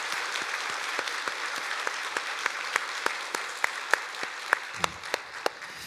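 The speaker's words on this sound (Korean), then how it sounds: "우리 윤한 총장님 뜨겁게 응원 박수 한번 해주시기를 바랍니다" A church congregation applauds during a Sunday service to cheer on the district head, a fairly even wash of clapping with a few sharp, distinct claps standing out near the front.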